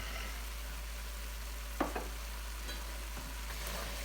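Mirepoix of onion, celery and carrots with oregano being stirred as it sizzles in a pot for pasta e fagioli, a soft constant sizzle with a couple of clear spoon scrapes and knocks.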